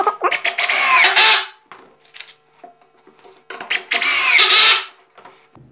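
Power drill driving 5x8 half-threaded screws to join pieces of wood, two loud whirring bursts rising in pitch as each screw bites in, with quieter clicks and handling noises between them.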